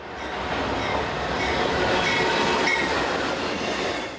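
A big orange freight train hauls a long line of colorful cargo carriages, its steady rolling rumble and wheel noise holding loud and constant throughout with no voices over it.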